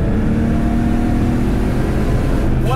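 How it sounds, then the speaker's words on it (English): Flat-six engine of a 1975 Porsche 911 Carrera Turbo build, droning steadily and loudly from inside the car with a slight rise in pitch near the end, as if revving on a throttle blip. "when I go to do a blip on a downshift is quite how big of a boot I've got to give it"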